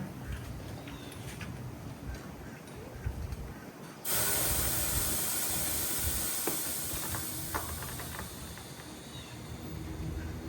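Air rushes out of a tire in a sudden, sustained loud hiss that starts abruptly partway through and holds steady, preceded by quieter roadside background noise.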